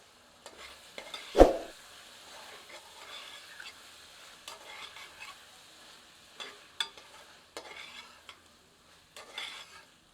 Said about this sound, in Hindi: आंच तेज करके इसे रम में मिलाकर अच्छी तरह भूनते हैं।